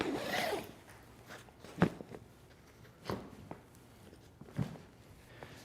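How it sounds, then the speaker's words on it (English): Zippers on a Peak Design Travel Backpack 45L drawn open to expand the front of the bag, several short rasping pulls with quiet handling noise between them, close and fairly soft. "These dual expansion zips expand the front of the bag and give you 10 liters of additional space."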